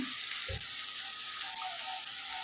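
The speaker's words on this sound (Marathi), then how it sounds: "छान परतून घ्यायचे आहेत मसाले" Spices sizzle steadily in a hot pan for a cauliflower curry, a continuous close frying hiss with small crackles throughout.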